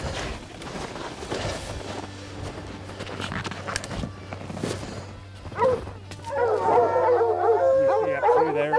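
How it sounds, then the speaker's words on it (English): Hunting dogs bark and howl at a distance in the Utah mountains, growing into a chorus of yips and howls near the end, over wind and faint footsteps; no talking. "we can hear the dogs barking down in"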